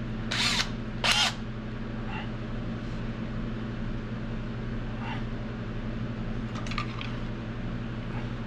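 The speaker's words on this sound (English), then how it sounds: "so I can drill a hole and" A power drill whirs in two short bursts near the start, followed by a low steady hum and a few faint clicks.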